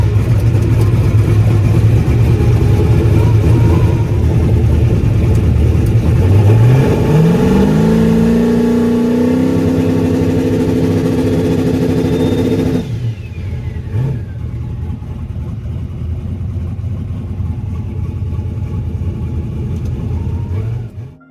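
A drag car, jacked up off the ground for a trans brake test, holds a loud idle, then its engine revs up and holds higher before dropping back to a rough, lumpy idle.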